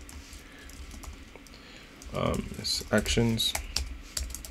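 Computer keyboard keys clatter as code is typed for a Drupal 9 config page, a steady patter of clicks with a denser burst midway, while someone talks over part of it.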